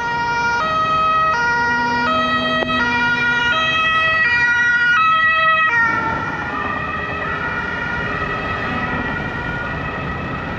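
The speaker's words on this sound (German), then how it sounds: "Hier, Rettungswagen wird durchgeladen." A loud ambulance siren wails in alternating two-tone bursts at a large street demonstration in Plauen, Germany, then shifts as the vehicle passes, with road traffic rumbling underneath.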